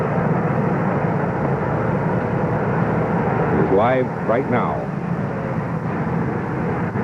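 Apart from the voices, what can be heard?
Air Force One jet aircraft at Andrews Air Force Base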